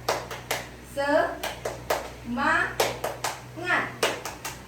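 Children in a classroom perform a rhythmic clapping routine during an ice-breaking activity, sharp bursts of hand claps alternating with a teacher's voice and a child chanting along.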